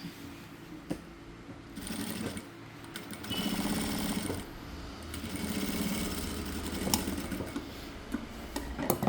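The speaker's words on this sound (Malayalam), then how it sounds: "സ്റ്റിച്ച് ചെയ്ത ലൈനുമക്കൂടെ തന്നെ സ്റ്റിച്ച് ചെയ്യണം" A sewing machine stitches a shirt seam in bursts of rapid needle chatter, starting and stopping between short pauses, close and clear with no talking.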